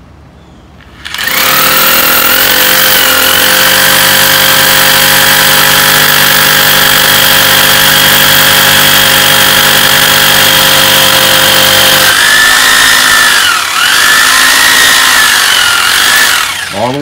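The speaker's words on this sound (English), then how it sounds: "start drilling." A power drill whirs steadily for a long stretch, loud and close, its pitch dipping briefly near the end as it bites in.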